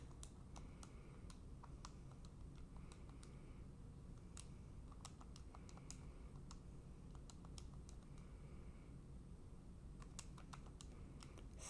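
Fingers tap the keys of a calculator in a quick run of sharp clicks, with brief pauses between bursts, over a steady low room hum.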